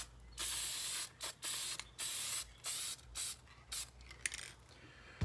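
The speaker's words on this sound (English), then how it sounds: "Shake it up real good. And all you're doing is misting." Spray paint can misting a Corvette splitter and wing, a series of short loud hissing bursts of about half a second each, separated by brief pauses, close up.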